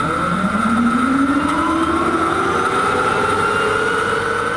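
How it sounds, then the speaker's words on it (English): A loud, rising whine climbs steadily over a constant roaring rush as the gas turbine engine of a Firebird concept car spools up nearby. "Hearing the turbine engine from one of the Firebirds start up is sort of eerie."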